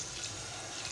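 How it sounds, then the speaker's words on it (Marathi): Water pours steadily into a cooking pot while Malvani chicken rassa is made, a short, close, continuous splashing rush with no talk. "पाणी घालत आहे।"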